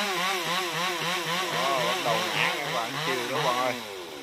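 A chainsaw cuts into a very large dáng hương tree, worked by a man standing at its base; the engine snarls close and loud, its pitch rising and falling in steady waves as the blade bites for about four seconds.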